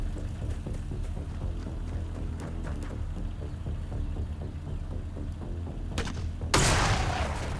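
A bomb blast in the video game Xenonauts 2, a low rumbling backdrop with scattered crackles, then a sudden loud explosive burst near the end that decays into a noisy roar.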